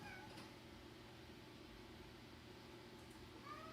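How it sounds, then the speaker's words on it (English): A distressed house cat meows faintly a couple of times, brief thin cries at the start and end over a steady low hum of room noise, with no talking. "Okay, I need to see what this cat wants."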